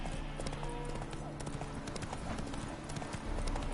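Horse hooves clip-clop in a steady rhythmic gait in the video game The Witcher 3: Wild Hunt, crisp and close, with faint background ambience and a soft voice murmuring underneath.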